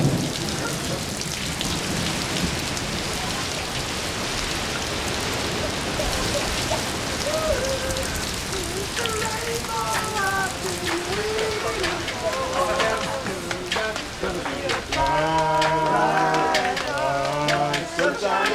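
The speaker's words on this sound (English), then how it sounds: "Moments later, it was followed by torrential rain." Torrential rain during an African storm following a dense dust storm, a steady loud broadband wash of downpour throughout, with a faint rumble suggesting thunder and music or voices rising over it later.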